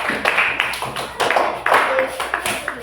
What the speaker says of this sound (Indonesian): tepuk tangan dulu pojok ketiga